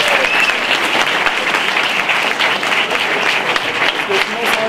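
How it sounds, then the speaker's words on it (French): Sustained audience applause fills a theatre hall for a local harmonie (wind band), dense steady clapping from a large crowd throughout, close and loud with no break. "Je pense qu'on peut les applaudir pour la salle."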